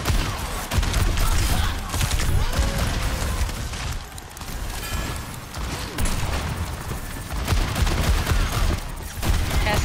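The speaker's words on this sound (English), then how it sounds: "Cass is taking pot shots at me." Cassidy's gunshots ring out in an Overwatch match amid a dense, continuous barrage of game gunfire and effects, loud throughout with brief lulls.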